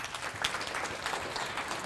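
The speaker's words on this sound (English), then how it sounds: "please do give Roger a big round of applause and welcome him to the stage" Audience applause at a closing keynote on the future of risk and insurability, a steady wash of many hands clapping at moderate volume without a break, and no clear voices standing out.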